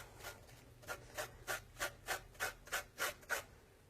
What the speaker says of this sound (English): I'm just going to grate in just a wee bit for some